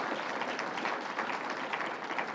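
Applause from an audience at a governor's campaign launch event, a steady, fairly soft wash of clapping in a large room, short and unbroken.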